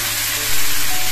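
Marinated chicken hits hot oil in a pan with bay leaf and cumin, giving a loud close steady sizzle that swells partway through, brief and without speech.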